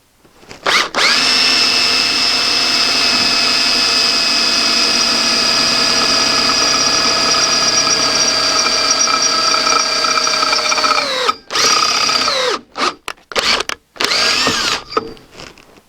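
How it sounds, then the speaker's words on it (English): Power drill boring through metal conduit, a loud, steady, high-pitched motor whine held close for about ten seconds, then winding down and broken into short on-off bursts. "now we get the conduit we just drilled"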